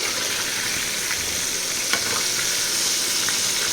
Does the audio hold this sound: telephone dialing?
no